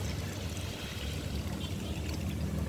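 Water poured into a wok with palm pulp, a continuous close gushing pour lasting a few seconds with no voices.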